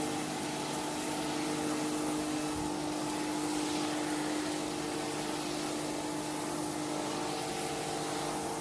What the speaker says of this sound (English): This is the pump that we use